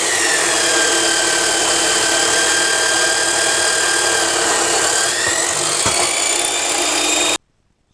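Steel railway spikes being cut off to three inches with a power tool, producing a loud, close, continuous grinding whine that holds steady, dips briefly near the end, then stops abruptly.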